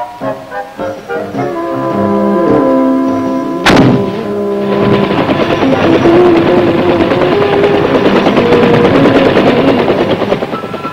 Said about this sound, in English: given the opportunity to fire some of the weapons of the real-life heroes in Vietnam